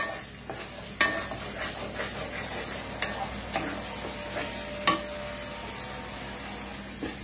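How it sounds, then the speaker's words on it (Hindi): Spices sizzle steadily as they are stirred into hot oil in a home kitchen, with occasional spoon scrapes and clinks against the pan. No one talks. "अभी तेल छोड़ दिया है, अब इसमें धीरे धीरे सारे मसाला डालती हूँ।"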